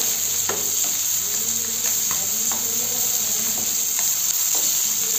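Garlic frying in reused oil for a jumbo tiger prawn curry, a steady close sizzle with occasional sharp crackles and stirring scrapes throughout.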